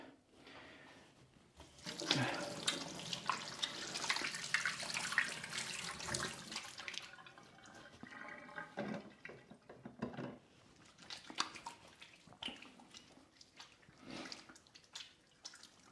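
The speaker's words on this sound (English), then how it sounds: "I should wash my hands." Running water from a kitchen sink tap splashes over hands being washed, a steady hiss that surges for several seconds, eases, then swells again in shorter bursts, close and fairly loud with no talking.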